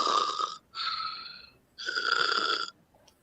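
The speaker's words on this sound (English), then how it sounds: "Can't you hear him back there breathing?" A sleeping man snores heavily nearby in three long, rasping breaths separated by short pauses, fairly loud and alone with no talking.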